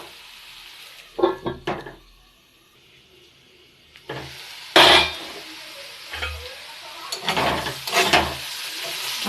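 Frying food sizzles in hot oil in a pan as a utensil stirs and scrapes it, with bursts of louder hissing and clatter over a steady crackle, close and without talk.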